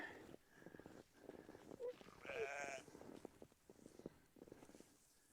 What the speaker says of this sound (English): These sheep think it's really funny wasting that hay.